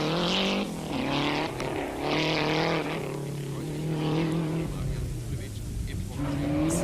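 A Lancia rally car reaches the finish at the 1992 Cyprus Rallye, its engine revving and shifting up and down near and loud while a commentator talks over it.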